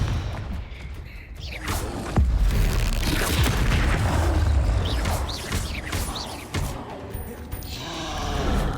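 Confringo explosive spell blasts in the Hogwarts Legacy video game, a run of loud, booming impacts with whooshing casts and crackling debris layered over a low rumble, continuous and close.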